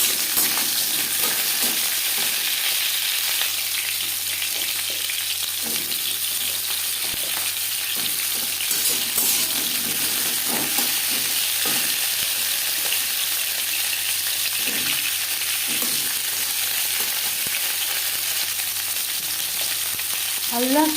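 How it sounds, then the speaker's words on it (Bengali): Pointed gourd (potol) frying in hot refined oil, a loud, steady hiss of sizzling that runs throughout, with occasional soft stirring scrapes and pops. "2 চামচ রিফাইন্ড অয়েল গরম করে নেওয়ার পর দিয়ে দেবো পটল"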